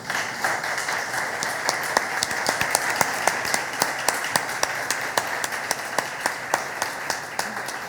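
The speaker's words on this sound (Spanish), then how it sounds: "le damos un aplauso" Applause from the audience at a book-fair author talk in Badajoz, with steady clapping and a few sharp, distinct claps standing out near the listener throughout.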